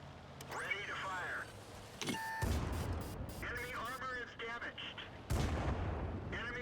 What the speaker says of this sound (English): there goes my last premium ammunition